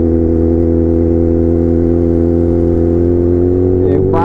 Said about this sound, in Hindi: और सुपर लाउड है यार, एयरो का एग्जॉस्ट लगा है इसमें, क्या सुपर लाउड लग रही है बाइक